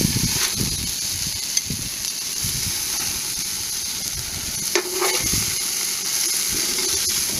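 Steady loud sizzle of steak browning in a camp oven, a continuous hiss with a few brief spatters and knocks near the middle.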